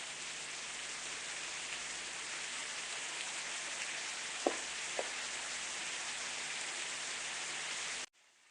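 Steady rain in Sakura School Simulator makes an even, hissing wash that continues without a break and then cuts off abruptly, with two faint clicks partway through.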